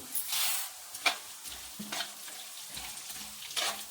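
Coriander seeds, cumin and chana dal fry in oil for a chutney, a soft steady sizzle with a few faint stirring scrapes, quiet and close, with no talking.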